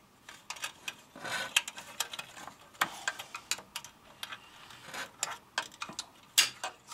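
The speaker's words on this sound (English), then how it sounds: "have to compress this spring between the housing and that washer, and then once we have it in place, slide the shaft on through" Metal clicks and scrapes while a spring is compressed between a housing and a washer during a seat suspension rebuild, a quiet, irregular series of close, sharp ticks.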